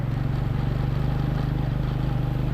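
A motorcycle engine thrums close by in a steady, pulsing idle-to-low-rev drone as the bike slips through sand near a fast river on a valley ride toward Hushay, Pakistan.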